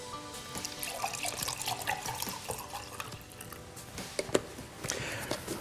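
11.5 high pH Kangen water pours into a container in a steady splashing trickle, close and moderately loud, with small drips and splashes and no voices.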